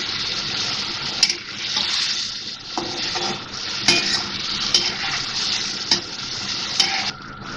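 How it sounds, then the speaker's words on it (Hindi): Chicken pieces frying in a handi with ginger-garlic paste, a steady sizzle broken by repeated scrapes and clanks of a spoon stirring against the pot, close and fairly loud with no talking. "अब मैं इसमें ये लहसुन अदरक का पेस्ट डाल दूँगी और इसको फिर भूनेंगे"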